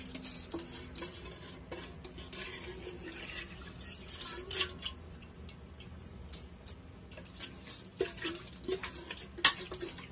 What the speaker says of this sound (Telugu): ఇంకా దీన్ని ఒకసారి మనం ఇలా మిక్స్ చేసేద్దాం